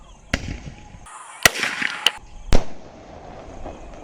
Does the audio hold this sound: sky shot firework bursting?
yes